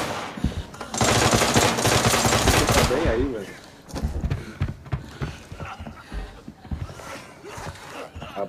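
Rapid automatic gunfire in the shooter game Arena Breakout, a dense loud burst of shots for a couple of seconds followed by scattered single shots and footsteps, with someone talking over it.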